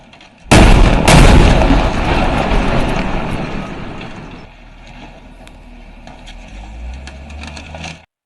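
A car bomb detonates next to a D9 bulldozer with a sudden loud blast, followed by a long rumbling roar and debris noise that slowly fades over several seconds.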